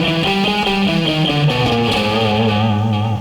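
Distorted electric guitar runs up and down an A Hungarian minor scale, a quick sequence of sustained, overdriven single notes stepping steadily, loud and alone.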